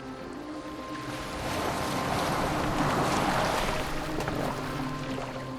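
A boat glides across open water in Assassin's Creed Valhalla, with steady rushing waves and wind that swell louder midway and then ease slightly, no one speaking.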